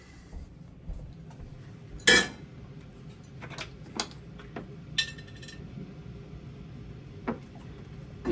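A cooking pot being handled in a kitchen, with scattered metallic clanks and clinks, one sharper knock among several lighter taps over a quiet background.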